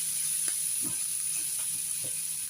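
Onions soften gently in a pan while being stirred, giving a soft, steady hiss with a few light scrapes of a utensil, close but fairly quiet, and no talking.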